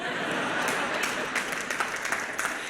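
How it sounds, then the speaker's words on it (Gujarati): A crowd claps together in a hall during a spiritual discourse in Dharampur, the steady dense patter of many hands lasting throughout, loud and close with no one speaking over it. "હા, તમે તો તાળી જ વગાડશો ને."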